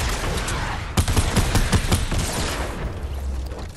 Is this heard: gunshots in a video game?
yes